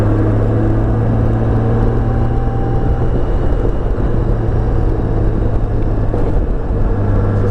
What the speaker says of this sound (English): I love how the Goldwings sound like a Porsche.